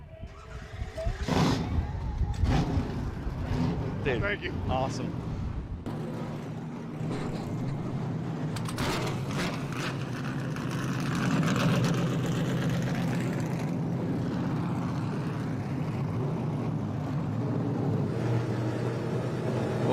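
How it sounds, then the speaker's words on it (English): TA2 race cars fire up at WeatherTech Raceway Laguna Seca, engines barking and revving before settling into a layered idle rumble, with someone speaking briefly over the noise. "Ladies and gentlemen, start your engines."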